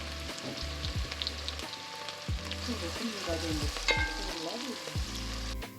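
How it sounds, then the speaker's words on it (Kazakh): Onions sizzle loudly in a hot pan while being browned for macaroni, with intermittent scraping and stirring clatter over the constant crackle of frying oil. "пиязымызды қызартып қуырып аламыз"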